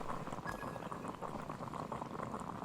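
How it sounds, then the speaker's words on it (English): Water boils in the video game Genshin Impact, a steady, faint bubbling hiss that runs unbroken throughout. "I'll boil some water."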